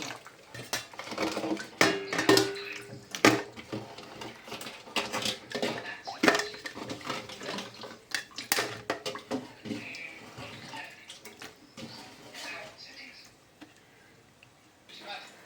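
Dishes and pots being washed under running water in a home kitchen during curry cooking, with irregular clinks and splashes, moderately close, alongside intermittent talking.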